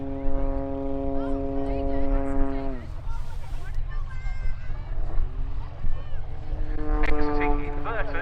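An Extra EA-330SC aerobatic plane pulls into a vertical climb at the RAF Cosford airshow, its engine a loud sustained drone with pitch sliding as it climbs, while a commentator talks over it.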